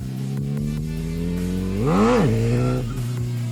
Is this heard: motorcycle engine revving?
yes